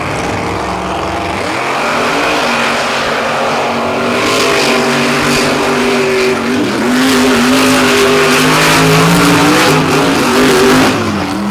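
Monster trucks race on a beach, engines roaring loud and sustained with revving surges and bursts of tire noise, with no voices.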